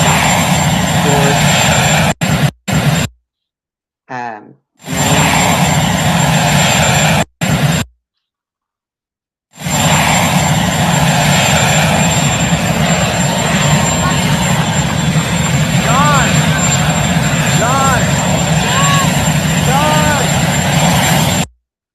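Loud, continuous drone of an aircraft engine close by, broken by a few abrupt cuts to silence, with faint voices underneath.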